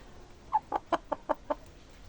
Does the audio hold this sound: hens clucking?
yes